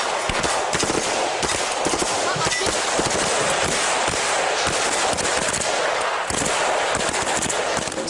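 Dense, continuous gunfire at an outdoor shooting range, pistols, revolvers and machine guns firing together in rapid overlapping cracks and bursts, loud and close throughout the recording, with a voice faintly heard underneath.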